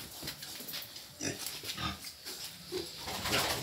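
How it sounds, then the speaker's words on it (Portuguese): A Pietrain sow and her piglets in a farrowing crate on a pig farm give close grunts and squeals in short bursts, with no talking. "E os leitão estão aí, ó."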